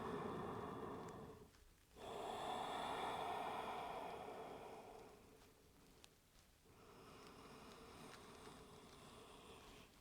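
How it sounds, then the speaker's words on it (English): Slow, deep breaths in and out during a Pilates arm workout with a small ball, long airy inhales and exhales close to the mic with a short pause between them. "just start with 3 lovely breaths in and out here"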